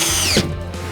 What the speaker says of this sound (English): now we, of course, use the coarse thread screws to fasten the board